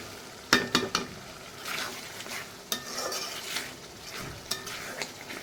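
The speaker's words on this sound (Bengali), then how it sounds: "এদিক দিয়ে যে মাছটা ভুনা করতেছি, টমেটোটা ফেলায় ফেলাবো।" Fish bhuna with tomato frying in a pan, a steady sizzle under sharp clinks and scrapes of a spoon stirring against the metal, close and fairly loud with no talking.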